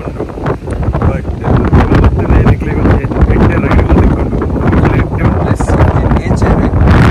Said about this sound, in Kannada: ಗಾಳಿ ಉಂಟು